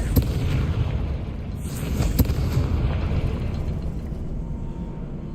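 A Confringo fire spell blast in the video game Hogwarts Legacy: a dull booming explosion with a couple of sharp cracks over a dense rumbling game soundscape, with no talk.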